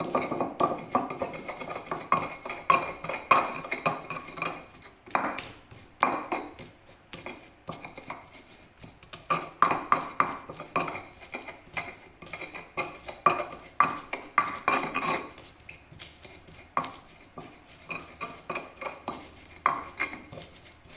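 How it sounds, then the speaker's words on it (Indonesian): Spice paste for an eggplant vegetable dish ground with a stone mortar and pestle (ulek), a steady run of close scraping, knocking strokes of stone on stone that pause briefly now and then and carry on alone without talk. "ini bumbunya mau aku ulek ya"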